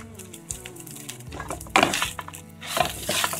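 A spoon stirs roasted vermicelli with ground coconut, almonds and pistachios in a pan, with scraping, rustling strokes and a soft sizzle that swell in two bursts.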